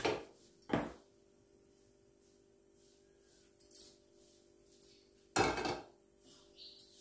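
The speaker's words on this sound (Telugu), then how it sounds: "ఇప్పుడు స్టవ్ ఆన్ చేసుకొని గిన్నె పెట్టుకుందాం." A pot is set down on a gas stove while a malabar spinach and potato curry is being cooked: a few sharp, close metallic clanks, with quiet stretches between them.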